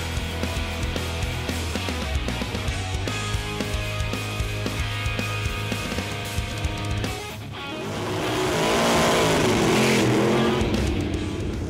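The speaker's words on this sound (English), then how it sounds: "This is the CMDRA at the Medicine Hat Drag Strip for the Badlands Nationals, brought by Ivan" Drag racing vehicles at the Medicine Hat Drag Strip during the CMDRA Badlands Nationals: a loud, steady engine roar holds for several seconds, then shifts into a rising, surging rush of noise as a car launches and pulls away.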